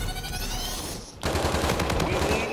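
Rapid automatic gunfire in the video game Call of Duty: Infinite Warfare, loud bursts of fast repeated shots with a brief pause before a second sustained burst.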